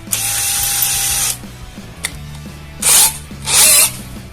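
A cheap Kamolee 10mm brushless drill works under heavy load with one loud, high whine lasting over a second, then a faint click, followed by two shorter, sharp bursts close by, with no talking.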